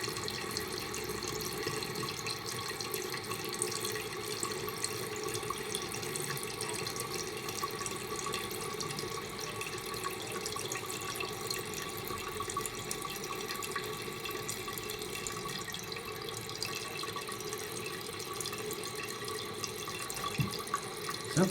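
An American Standard Cadet toilet tank refills through a newly installed fill valve with a steady hiss of running water, constant and moderately close for the whole stretch, with a faint clunk near the end and no talking.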